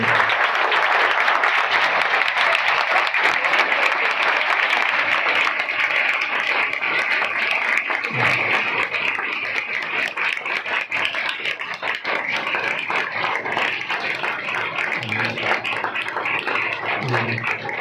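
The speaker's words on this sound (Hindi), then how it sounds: "इससे ज़्यादा खुदा के कलाम के लिए तालियां नहीं थी," Church congregation applauding for the Word of God, sustained, close crowd clapping that runs continuously throughout, fairly loud and even with scattered sharper claps and brief low thumps.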